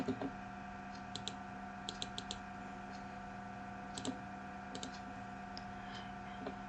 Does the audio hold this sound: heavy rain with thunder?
no